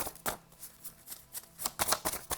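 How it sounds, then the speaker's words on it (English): A deck of tarot-style reading cards is shuffled by hand up close, giving a quiet run of papery riffles and flicks with irregular bursts and no voice over it. "Let me shuffle the deck a little bit."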